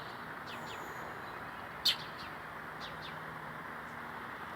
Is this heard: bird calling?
yes